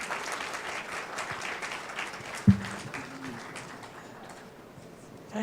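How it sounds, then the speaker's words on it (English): Audience applause at an education event: dense, crackling clapping fills the first half and then thins out, with a pigeon cooing close by partway through. "Can we have a bigger round of applause"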